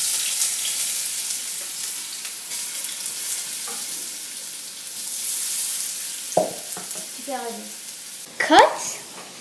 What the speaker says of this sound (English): Fry the potatoes at a medium-low heat until they are tender.